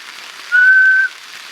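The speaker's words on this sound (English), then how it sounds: "Single whistle, right?" A single steady whistle rings out outdoors at night at a camp in Washington, one sustained tone lasting about half a second, clear and fairly loud over a soft background hiss.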